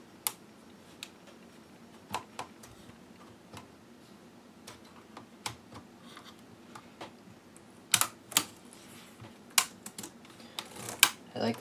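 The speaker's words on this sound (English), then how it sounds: "I like the sound of this keyboard though" Keys clacking on an HP Pavilion dv4 laptop keyboard, sparse irregular taps and clusters of sharp clicks at close range over a faint steady hum, with no talking.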